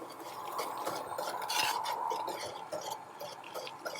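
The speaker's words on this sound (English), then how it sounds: "make sure that you immediately give it a stir so that they don't stick together" A spoon stirs tapioca pearls in a pot of boiling water, with soft, quick scraping and clinking against the pot, close and fairly quiet, with no talking.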